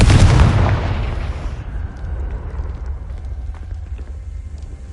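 A heavy blast from the Confringo spell in Hogwarts Legacy booms loudly at the start and then decays into a low rumbling tail over several seconds.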